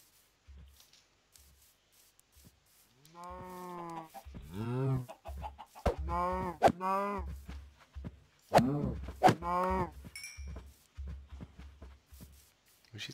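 Hens clucking in Minecraft: a run of short, repeated game clucks that sits against a voice talking through the same stretch.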